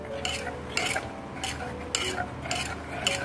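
A ladle stirs onion sambar in a metal pot, four or five rhythmic scraping strokes at regular intervals over a low simmer, close by with no voices.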